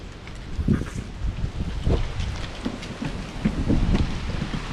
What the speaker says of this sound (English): Pretty windy out here, I don't know if you can hear me.